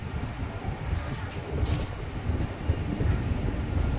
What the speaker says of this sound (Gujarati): ધીમી પડી છે આપણી ટ્રેન સ્લો થઈ ગઈ છે